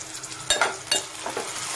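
Finely chopped tomato fries in a pan with softened onion for a spicy black-eyed pea curry, giving a soft sizzle with a few sharp stirring scrapes of a spoon, close and with no talking.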